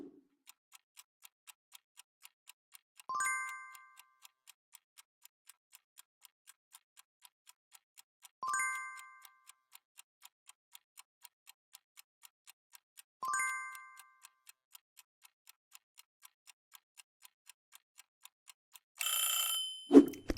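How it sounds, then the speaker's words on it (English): A countdown clock ticks steadily and evenly at a moderate level, broken every few seconds by a short bright chime, then a louder burst of alarm-like ringing as time runs out. "we're setting a timer for you to solve it on the clock"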